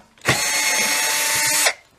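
A power drill or driver backs screws out of an acoustic guitar body with the strings left on, giving one steady, loud, high-pitched whir of about a second and a half that starts and stops abruptly.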